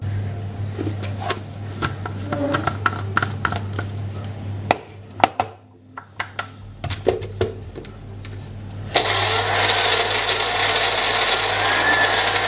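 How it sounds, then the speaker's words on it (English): A bullet blender whirs loudly and steadily through margarine and rice milk icing, starting partway in after scattered kitchen clatter and small knocks, then running continuously to the end. "I'm just going to put this in my blender, in my bullet, and see what happens."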